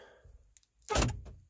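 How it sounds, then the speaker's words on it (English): Power door locks on a Jeep Wrangler actuate in a single loud mechanical thunk after a brief quiet pause, close and alone, with a short trailing rattle. "all doors are locked, and now they're all unlocked"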